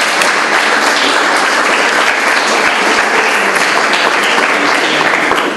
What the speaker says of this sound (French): il mérite une main d'applaudissement encore une fois